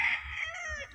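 An Ilmore hatch gamecock rooster crows at a game farm, one loud, near, strained call that rises and trails off within a second.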